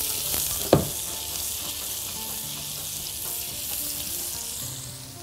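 Chicken kofta frying in a mix of butter and oil, a steady broadband sizzle with a sharp utensil clack near the start and light stirring noises throughout.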